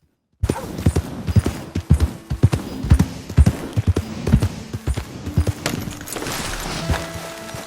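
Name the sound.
horse hooves clip-clopping in video game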